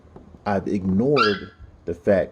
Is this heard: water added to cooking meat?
no